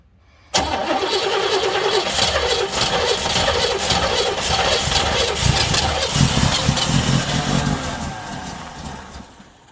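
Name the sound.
Oldsmobile engine cranking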